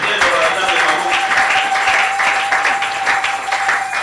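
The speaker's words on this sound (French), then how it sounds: "Acclamons à la parole de Dieu" A church congregation at a Sunday service breaks into steady, dense applause that continues throughout, with some voices mixed in beneath the clapping.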